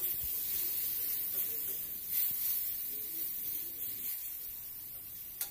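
Spice paste for Baul fish curry sizzles in oil over a low to medium flame, a steady soft hiss with faint crackles that goes on throughout.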